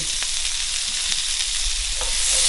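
Minced garlic and bacon sizzle in a pan with green beans, a dense, fairly loud, steady hiss with faint clicks, rising slightly at the end, close by and without talk.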